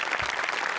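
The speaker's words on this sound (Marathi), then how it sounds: "मोठे आणि भूषण शेलार दोघांसाठी प्रचंड टाळ्या." Studio audience on a Marathi TV comedy show bursts into loud, dense applause, a steady wash of clapping filling the whole moment with no voices over it.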